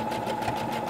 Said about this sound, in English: that lumpy sound was probably it going over the seam of the shirt